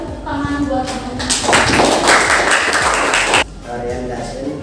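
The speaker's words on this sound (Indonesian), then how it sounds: "Silakan tepuk tangan buat teman-teman." A class claps for classmates in a short burst of applause lasting about two seconds, set between stretches of talking and ringing tones in a classroom.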